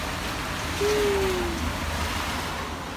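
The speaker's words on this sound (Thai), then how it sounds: "ตอนนี้ข้างนอกฝนก็ตก" Steady rain falling outdoors in Chiang Mai, a constant broadband hiss of drops with a faint brief whistle-like tone partway through and no voices.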